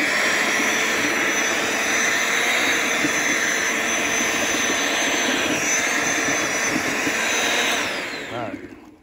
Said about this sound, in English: I'm gonna show you the Dewalt should run this tiller without that chipper on.